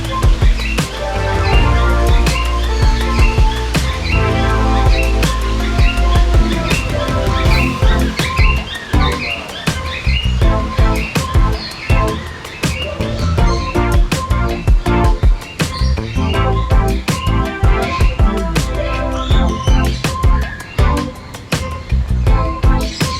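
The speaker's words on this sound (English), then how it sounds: "Here we have the human trained parrots." Trained parrots at a bird park in Kuala Lumpur call loudly and continuously, with dense overlapping squawks and chirps alongside other birds, close and busy throughout.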